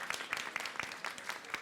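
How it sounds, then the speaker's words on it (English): An audience at a personal development expo gives Tamsin a brief round of applause, a short burst of fairly quiet, rhythmic clapping. "Can we just give Tamsin a round of applause for the success that she's had?"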